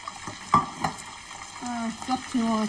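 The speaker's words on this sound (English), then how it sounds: "Adding your tomatoes and onions." Tomatoes and onions frying in a pan, with a couple of sharp scrapes and clanks of a utensil and a short spurt of sizzling, close and moderately loud, with no talk.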